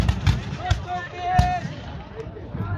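Muzzle-loading gunpowder guns fire in a 1627 battle reenactment in the Netherlands, several sharp irregular bangs cracking one after another, some near and loud, others more distant, over a faint background murmur.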